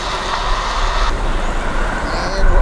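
Genesis GV70 electric SUV accelerating hard in Boost mode, a steady, fairly loud drone of motor and road noise from inside the cabin that rises slightly toward the end.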